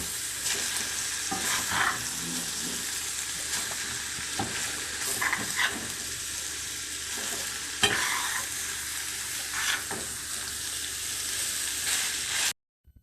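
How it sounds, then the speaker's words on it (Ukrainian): Steady sizzling of beetroot frying in a pan, with occasional stirring scrapes and clicks, continuous and close, no voices. "До нашого борщика ще смажимо бурячок"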